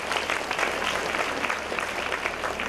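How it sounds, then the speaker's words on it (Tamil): An audience at a church festival gathering claps together, a dense spread of hand claps with a faint crowd murmur underneath, steady throughout. "ஒரு கைதட்டுங்க."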